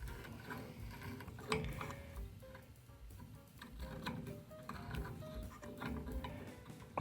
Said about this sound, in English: Grind away some of that corrosion and make a smooth seat.